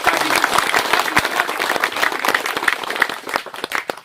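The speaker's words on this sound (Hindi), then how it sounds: "हम चाहते हैं कि एक बार जोरदार तालियों से स्वागत करिए।" A crowd at an AIMIM political gathering gives a speaker a welcoming round of applause, with loud, uneven clapping and sharp individual claps standing out as it rises and falls.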